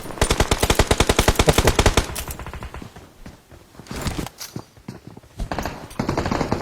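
Rapid automatic fire from an AK rifle in a shooter video game, a dense loud burst of shots followed by scattered bursts and single shots, with sharper gunfire returning near the end.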